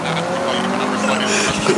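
A car in Forza 7 skids under the handbrake, tires squealing in a sustained screech over a roaring engine, loud and close with a brief rumble near the end.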